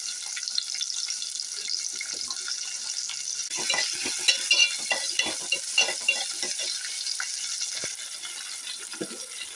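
Whole shallots and curry leaves fry in hot oil in a pan, a steady soft sizzle broken by sharp crackles and pops, with occasional stirring scrapes, close and without talk.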